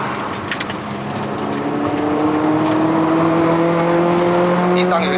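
Engine of a manual 2010s Suzuki Swift Sport ZC32S 1.6L driving on a wet mountain road, a loud steady drone rising in pitch as revs climb, heard close from inside the cabin.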